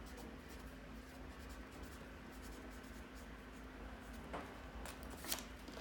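Handwriting labels on paper for a candy model of neurotransmission, with faint scratching and light rustling over a low steady background hum, quiet and close.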